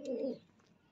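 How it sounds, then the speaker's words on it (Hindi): A single soft coo from a red pigeon, low and throaty, close by, fading into quiet background. "ये लाल कबूतर देखो अंडों पर बैठ इन बच्चों पर बैठता है"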